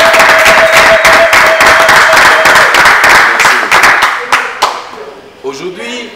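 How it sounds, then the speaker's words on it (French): Graduation audience for a Master of Business program at PCP Congo in the DRC bursts into dense, loud clapping that carries steadily, then thins out and fades as a voice begins speaking near the end. "on peut acclamer pour vous-même"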